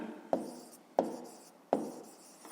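Chalk or pen strokes on a board or paper while writing a fraction during a fifth-grade maths lesson: three short, crisp taps about a second apart, close and fairly quiet, with no talk.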